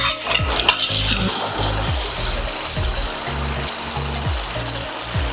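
Beef fry cooking down in a pan as its liquid dries off gives a loud, continuous sizzle and bubbling hiss with stirring scrapes, close by and without talk.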